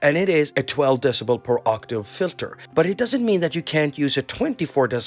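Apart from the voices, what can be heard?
No everyday noise stands out behind the speech.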